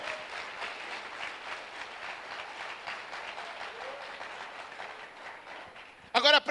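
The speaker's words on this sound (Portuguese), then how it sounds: "Dê um aplauso bem forte ao Senhor." A church congregation applauds loudly and steadily for several seconds, a dense continuous clapping that carries on until a voice cuts in at the very end.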